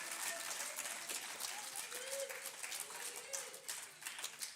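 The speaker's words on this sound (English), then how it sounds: "give them applause as they head down" Clapping from a crowd at a junior high school academic awards ceremony as seventh-grade honor roll students walk down, faint and steady, with some voices mixed in.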